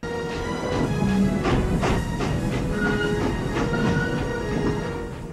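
Train in Back to the Future Part III rumbles loudly with rhythmic clattering of wheels on rails and metallic screeching, a dense continuous roar with no voices.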